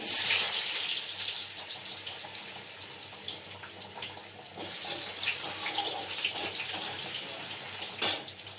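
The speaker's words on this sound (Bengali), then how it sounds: "আলুগুলো একটু লাল লাল করে ভেজে নিচ্ছি আমি।" Potatoes frying in oil for a chicken and chickpea curry, a steady close hiss and crackle with brighter bursts partway through and a sharp clatter near the end, no talking.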